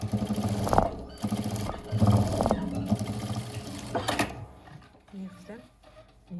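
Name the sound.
sewing machine stitching a seam on a cosmetic bag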